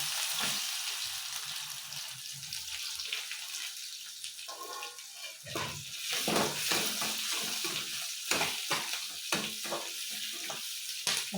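Chopped onion sizzles loudly in hot oil in a pan during breakfast cooking, a dense steady crackle and hiss filling the whole stretch, close and continuous with occasional stirring scrapes and no talking.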